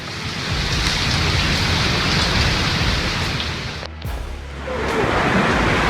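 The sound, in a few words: storm with heavy rain and strong wind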